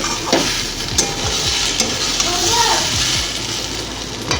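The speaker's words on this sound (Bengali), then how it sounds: "মুগ ডাল দিয়েও হালকা নেড়ে নিয়েছি। তো এবার দিয়ে দেবো জল।" Mung dal sizzles and fries in a pan while being stirred, with water being added and periodic clicks and scrapes of a spoon against the vessel throughout.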